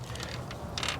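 A screwdriver twisted against a trim part on a 1990s BMW E36 318i gives short creaks and ratchety clicks, with a couple of brief sharper snaps toward the end, close and fairly quiet.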